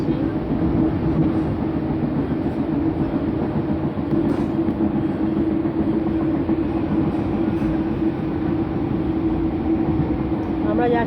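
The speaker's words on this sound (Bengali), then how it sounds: "দেখো, ট্রেনে বসে আছি" Inside a moving train, a loud continuous rumble of wheels and carriage noise runs steadily throughout with faint rattles on top.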